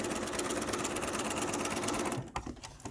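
Sewing machine stitching diamond quilt pieces for a LeMoyne Star block, a loud rapid needle chatter running steadily, then stopping abruptly near the end with a few faint clicks.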